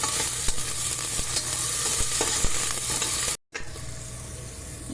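Barley upma fries in a pan with cumin and mustard seeds, keeping up a continuous close sizzle marked by sharp ticks of stirring. A brief silent gap comes before the frying continues.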